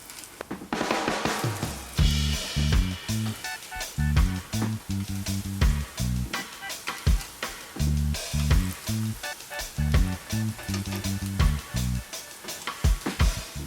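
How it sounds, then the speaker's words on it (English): Caribbean saltfish fritters frying in oil give a steady, close sizzle and crackle, with light pops and intermittent clinks and scrapes from the pan throughout. "Just want to fry these until they're cooked and golden brown."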